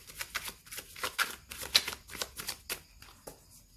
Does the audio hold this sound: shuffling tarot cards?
yes